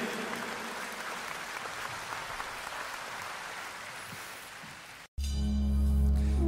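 A concert audience claps in a dense, sustained wash of applause for about five seconds before the sound cuts abruptly to music.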